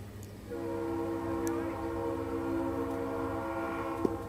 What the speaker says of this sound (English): The driver of the train agrees with you.